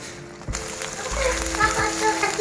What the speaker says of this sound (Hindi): हम इसको इतना फ्राई करेंगे कि हमारा ऑयल ऊपर तैर कर ऊपर आ जाए।